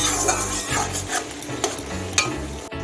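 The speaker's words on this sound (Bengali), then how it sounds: "এখন আমি রসুন পেস্টটা দিয়ে দিচ্ছি কষিয়ে নিচ্ছি" Garlic paste frying and being stirred in a pan for a fish do pyaza, with a close crackling sizzle and a few spoon scrapes against the pan, and no voices.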